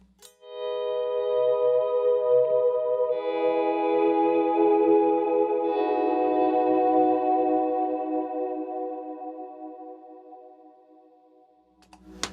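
Electric guitar swelling in softly, sustained chords fading up and blooming with delay trails, then slowly dying away into near silence.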